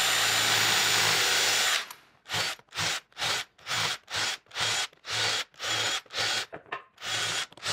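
Power drill countersinking screw holes in wood for a simple bench: one sustained grinding run, then about nine short, even bursts of drilling separated by brief pauses, close and loud.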